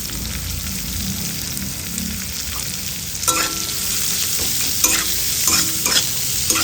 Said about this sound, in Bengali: পেঁয়াজ দিয়ে একবারে সুন্দর করে ভেজে নেব